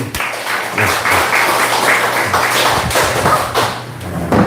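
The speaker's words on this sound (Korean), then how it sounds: "박수!" Applause at a Korean church gathering, a short burst of clapping from a small group, moderately loud and mixed with thumps and a few voices.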